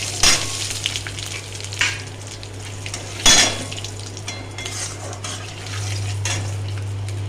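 Dried chilli, ginger and panch phoron fry in hot oil, a continuous sizzle broken by a few sharp spattering bursts and utensil clinks, with a low hum underneath.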